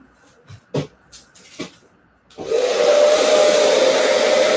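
A hair dryer on its cool setting blows steadily to dry lace wig glue, starting after a few soft handling knocks and then roaring close and continuous to the end.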